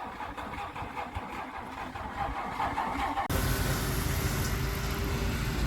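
An old Nysa van, a militia-marked vehicle, grinds its engine on the starter with a rough mechanical churn, then a sudden louder, denser engine roar takes over partway through, close and steady.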